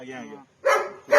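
A dog cries with a drawn-out whining note, then two short, sharp yelping bursts after a brief pause, close and fairly quiet.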